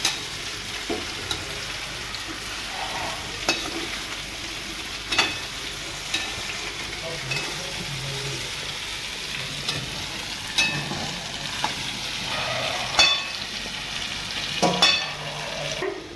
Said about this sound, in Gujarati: આને હળવી આંચ પર શેકાવા દઈશું.